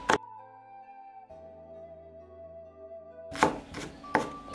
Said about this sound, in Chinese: 把西兰花剁成末备用。